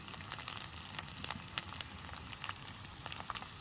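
Chili and turmeric spice paste with cumin and green chili sizzles steadily in a pan for hilsa pulao, a dense hissing fry with scattered crackles and pops, close and continuous with no talk.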